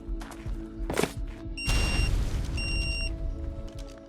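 A loud, close boom of an explosive charge blasting through a base wall in the video game ARK, with a broad burst of noise that lingers and settles over a steady background hum.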